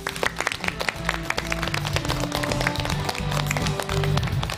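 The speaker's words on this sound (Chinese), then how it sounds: "掌声欢迎。" Studio audience on a CCTV health programme applauds to welcome a guest, a lively burst of clapping with a sustained musical tone underneath.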